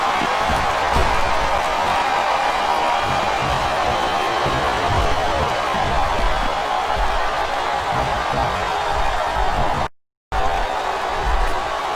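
A steady wall of crowd cheering and roaring fills a wrestling arena in WWE SmackDown vs Raw 2007, loud and continuous, broken by a brief dropout near the end.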